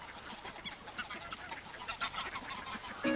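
Honking from a duck mingled with a flock of other fowl, repeated calls coming steadily against a busy outdoor background with no talk.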